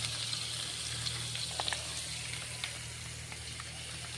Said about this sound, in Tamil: இப்போ வெங்காயத்தை நல்லா வதக்கிக்கலாம்.